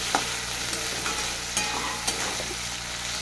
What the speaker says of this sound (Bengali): পেঁয়াজগুলো এইভাবে ভেজে নেবো।